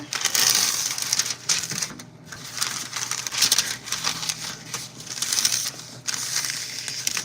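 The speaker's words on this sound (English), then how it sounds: "Parchment paper." Parchment paper crinkles and rustles as it is handled in a home kitchen, a close, busy run of dry crackling bursts with brief pauses, continuous across the moment and with no talking.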